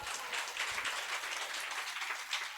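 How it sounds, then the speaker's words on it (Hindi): Applause from a church congregation, a dense and steady wash of many hands clapping together for the full stretch, moderately loud and without gaps. "आप खुश है तो ताली बजाइए।"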